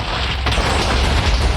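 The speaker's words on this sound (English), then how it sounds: "Oh my god, we just created like an absolute explosion" Explosion in the Minecraft game, with the Mutant Beasts mod: a loud, dense, sustained blast roar with heavy low rumble lasting the whole moment.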